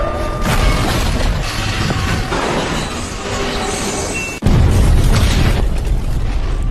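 A fuel tanker truck blows up in a film scene: a loud, sudden broadband blast cuts in partway through, over an already dense rumbling action soundtrack, then sustains as a heavy roar to the end.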